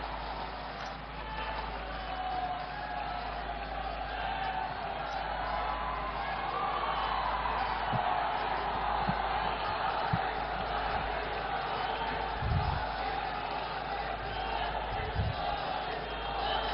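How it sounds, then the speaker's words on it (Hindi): Large outdoor political rally crowd in Bhagalpur welcoming Prime Minister Narendra Modi, a steady far-off roar of cheering and clapping that persists throughout, with occasional thumps and shouts rising above the din. "जोरदार ताली बजाकर हमारे प्रधानमंत्री जी का स्वागत करें।"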